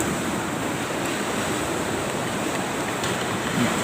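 Hot water pours over instant fish noodles in a continuous loud, rushing splash that holds steady throughout with no pauses.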